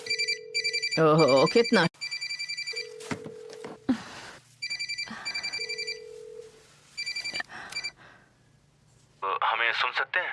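A mobile phone rings in repeated electronic bursts of tones that start, stop and resume, with people talking between and over the rings and a brief higher warbling tone near the end.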